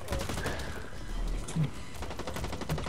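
Rapid gunfire from the online shooter Blacklight Retribution crackles in close bursts, mixed with game noise and a talking voice over the top.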